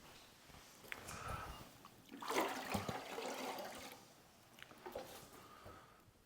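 Water sheets and trickles off a body panel of a daily-driver car during a hand wash, with irregular splashing and a louder rushing swell midway, fairly faint and without talk.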